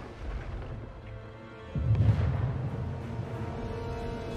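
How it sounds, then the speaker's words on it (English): Naval cannons firing at pirate ships in the video game Anno 1800, heard as a deep rumbling barrage that swells into a louder sustained roar of booms over steady game ambience. "now they're in range of my cannons"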